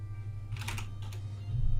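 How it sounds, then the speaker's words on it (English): Quick taps of typing on a computer keyboard over a microphone during an online call, a short cluster of faint clicks over a steady low hum, with no talking. "I think I've heard your keyboard."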